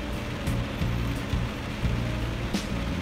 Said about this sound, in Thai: ฝนเลยตกออกรถบ่ได้ตอนนี้เป็นยังไงดีล่ะ